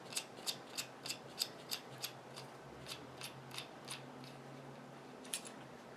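Crisp, evenly spaced metallic clicks and ticks from a Dux pressure-feed or gravity-feed spray gun being taken apart as the trigger is pulled back and the needle removed, about a dozen sharp taps close by in a quiet room.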